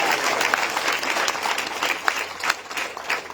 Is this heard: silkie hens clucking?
no